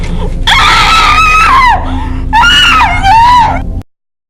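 Loud, close screams from a girl in a film trailer, two long high-pitched wailing cries separated by a short pause, followed by an abrupt cut to silence.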